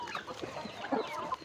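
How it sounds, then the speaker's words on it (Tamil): Native country chickens cluck repeatedly on a goat farm, several short close calls overlapping one another against a busy farmyard background. "ஒரிஜினல் நாட்டுக்கோழி ஆமா."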